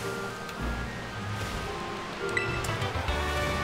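A waterfall in the Pokémon Purple video game, a soft, steady rushing wash of water with faint game tones layered over it, continuous and fairly quiet throughout.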